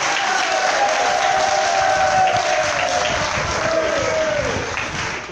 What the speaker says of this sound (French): Je vous demande d'applaudir très fort